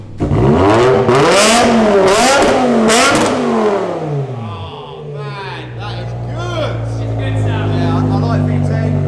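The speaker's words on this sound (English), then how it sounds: "Scouse is just going to start her up so we can hear that V10 magic." A V10 car with a rear box delete exhaust fires up and revs, rising and falling engine tones that settle into a steady, loud idle, with people talking over the start.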